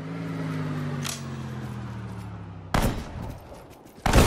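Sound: gunfire in Sudden Strike 4 video game

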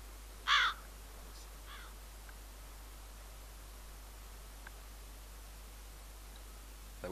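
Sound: crow cawing in video game DayZ

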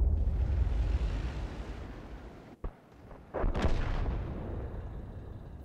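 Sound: tank cannon shot in a video game

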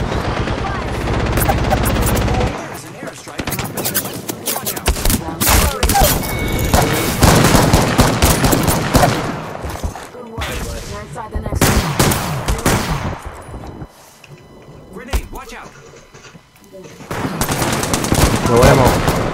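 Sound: gunfire in Apex Legends video game

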